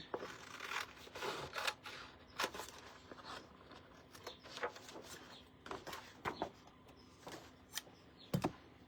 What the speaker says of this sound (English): I think what I'll do is just cut it right here